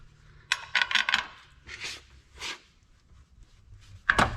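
Metal clinks and ratchety clicks from a wrench snugging a bolt beside the park brake cable on a 3rd gen Toyota 4Runner, a few bursts of close, sharp tool contact with a final loud clank.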